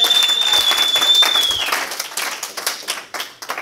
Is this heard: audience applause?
yes